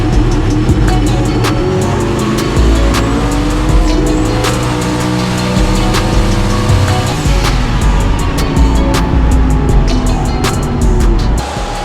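Loud drag-racing cars at a PDRA Bristol event, including a red Mustang launching, roaring engines with a sustained high-revving blare and tire squeal, close and dense without pauses, no speech.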